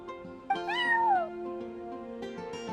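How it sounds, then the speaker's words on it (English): A cat meows in a video game, one clear rising-then-falling meow over steady background music, loud and close, with no talk. "that's my neighbor's cat"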